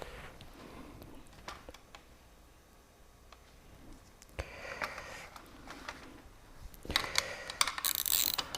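A stand holding a 40HP Mercury outboard motor is wound higher, giving close, irregular ratcheting clicks. The clicks grow louder and denser toward the end.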